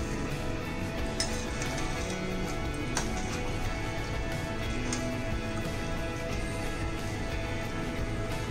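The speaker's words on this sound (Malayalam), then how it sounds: "ഇനി നമുക്കിതിനൊന്ന് വറുത്ത് പോരാം." Curry leaves and a crispy masala cheeda snack mix frying in a pan at home, a continuous soft sizzle and crackle with occasional light stirring, close and fairly quiet.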